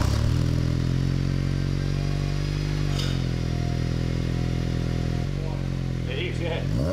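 A steady, deep exhaust drone from a Honda Civic Type R EP3 with an HKS Hi-Power 409 exhaust idles nearby throughout, with a faint clatter partway through and a slight shift in tone near the end.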